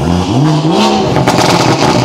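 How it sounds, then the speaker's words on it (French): A tuned BMW 240i revs loudly up close, with the engine note rising and falling as the exhaust crackles with pops and bangs near the end. "Le pop and bang c'est insupportable."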